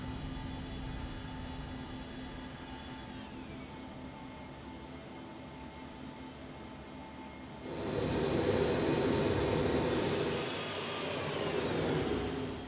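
An Embraer ERJ jet climbs after takeoff in X-Plane 11, its engines giving a steady roaring whine with tonal hum, a brief drop in level, then a louder, brighter surge of engine noise toward the end.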